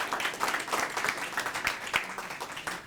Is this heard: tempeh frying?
no